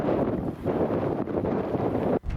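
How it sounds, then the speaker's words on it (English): Strong wind buffets the microphone outdoors on a country road, a loud continuous rumbling roar that cuts out briefly near the end. "And it's very windy."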